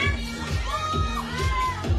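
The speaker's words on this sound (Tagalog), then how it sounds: "Malakas na sigawan!" A crowd shouts loudly at a grand opening, a dense roar of excited voices and cheers with children's shrieks rising over it, continuous and close.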